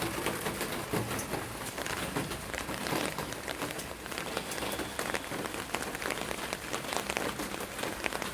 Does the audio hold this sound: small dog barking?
no